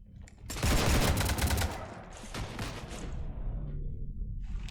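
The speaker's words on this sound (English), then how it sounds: "You want to stop shooting up my ship?" Rapid gunfire strafes a ship in Mass Effect, a loud dense burst of shots that tapers into scattered rumbling impacts and fades into lingering noise.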